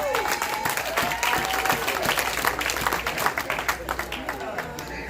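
A congregation at a Sunday night church service applauds with dense, continuous clapping, and voices can be heard in the mix.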